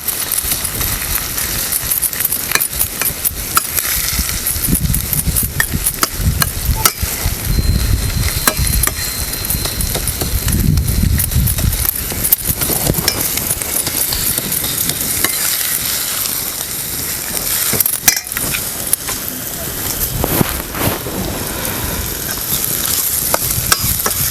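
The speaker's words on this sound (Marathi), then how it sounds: "तेलामध्ये टमाटो टाकल्यावर पूर्ण निरगळतोय बघा कसा" Tomatoes fry in hot oil in a pan for a village-style egg curry, with a loud continuous sizzle and repeated scraping and clinking of a spoon stirring against the metal.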